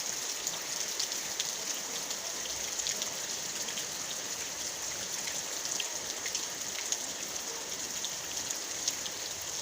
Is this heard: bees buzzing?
no